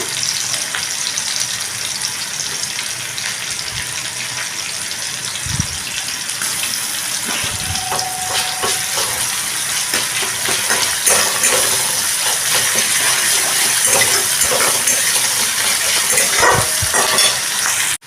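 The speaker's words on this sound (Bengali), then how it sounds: "এগুলো এবার একটু হালকাভাবে ভেজে নিচ্ছি সামান্য একটু রসুন বাটা দিলাম" Vegetables with a little garlic paste frying lightly in an oiled pan, a loud continuous sizzle broken by intermittent stirring scrapes and knocks, with no voices.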